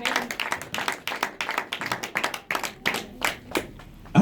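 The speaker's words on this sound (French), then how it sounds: "On acclame pour la parole du Seigneur." A church congregation breaks into applause, a dense run of claps with uneven peaks over about four seconds, moderately close and without talk.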